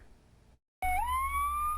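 After a brief moment of silence, a siren suddenly starts up close and loud, its wail sliding upward and holding a high, steady tone.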